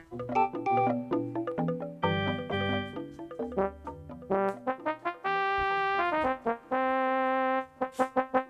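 A Yamaha PSR-180 electronic keyboard cycling through organ-like voices, each preset sounding a few sustained harmonic notes and short chords, separated by brief gaps, with no talking.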